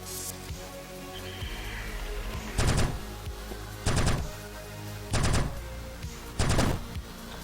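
A weapon firing in the video game Neurovoider, four loud, evenly spaced bursts of rapid shots, each lasting about half a second, over a constant game soundtrack.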